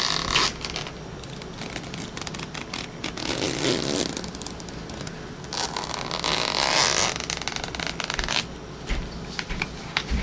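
Close zipper pulls on a Kindle cover with a ragged, buzzing rasp, several drawn strokes in a row amid rustling handling noise.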